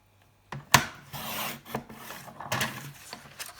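A paper trimmer slicing a sheet of paper in a crafting setup: a sharp click followed by a rough sliding rasp that fades and returns in a second short pass, close and moderately loud.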